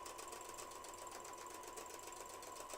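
Sewing machine running steadily as it stitches a junk journal folio, a continuous close whirring hum with fast even needle rhythm and no pauses, heard alone.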